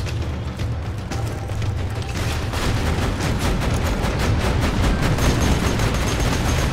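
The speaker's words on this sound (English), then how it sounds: "I think your turret's hitting the cactus" A gun turret in the video game Borderlands 2 fires steadily at a cactus in Lynchwood, a dense, continuous barrage of rapid shots and booms that stays loud for the whole stretch with no talk.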